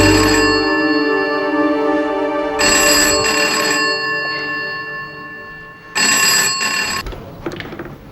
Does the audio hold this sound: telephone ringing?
yes